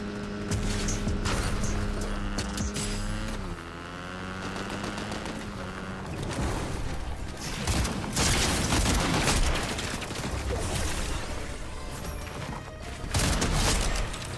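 Repeated DMR rifle shots in Fortnite ring out loud and close as sharp broadband cracks, layered over a dense, busy game mix with music and engine-like hum.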